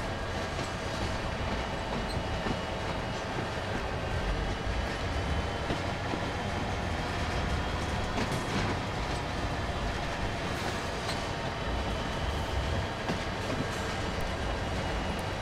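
A CSX heavy-haul freight train in Train Sim World rumbles steadily and loudly throughout, with rhythmic clickety-clack of wagons over the rails and occasional sharper wheel clicks, with no talking.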